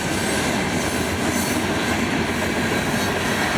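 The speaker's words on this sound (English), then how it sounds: "There it is, the rock train." A rock freight train rolls past up close, a loud continuous rumble with clickety-clack of wheels and faint squealing, no voices over it.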